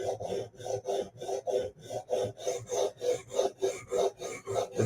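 A Hinderer knife is sharpened on a Hapstone RS guided sharpener, a steady rhythmic rasp of stone strokes along the steel, about three per second, close and alone.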